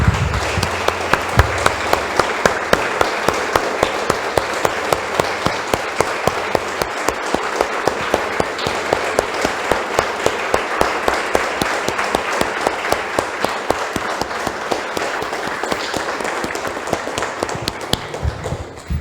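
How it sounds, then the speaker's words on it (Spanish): A church congregation gives a long, loud round of applause to the Lord, many hands clapping in a steady rhythmic beat that holds evenly from start to finish with no voices on top. "Damos un aplauso, hermanos, al Señor."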